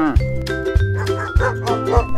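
Dog barking a few times, short repeated barks layered over steady background music, fairly close and loud.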